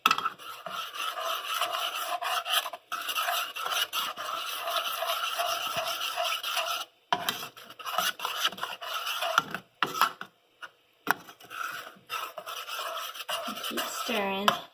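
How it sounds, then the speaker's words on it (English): Homemade playdough is stirred in a pot, producing a long run of close, gritty scraping and rubbing strokes that breaks into short bursts with gaps toward the end. "And you just want to keep stirring it. Get out all the lumps while you're stirring it."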